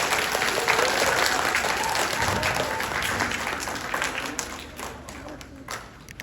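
An audience at a school pinning ceremony for first and third graders applauds the students, steady dense clapping that gradually thins out and fades over several seconds.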